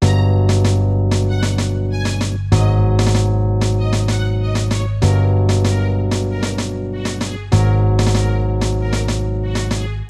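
A full hip-hop beat with a string ensemble, layered chords and drums, plays loud and steady with no voices, its pattern looping about every two and a half seconds.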